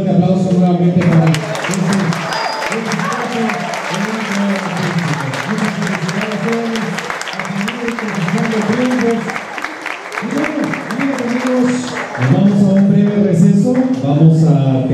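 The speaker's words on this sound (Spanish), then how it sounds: "Por favor, quiero pedir un fuerte aplauso nuevamente" A theatre audience breaks into loud, sustained applause after a group's performance at an evening show, dense clapping filling the room for the whole stretch.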